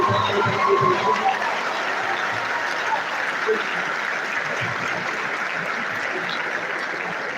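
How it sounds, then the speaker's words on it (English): Sustained audience applause fills an academic lecture hall in Nigeria, a dense even wash of clapping that holds steady throughout. "Please keep clapping, keep clapping, keep clapping."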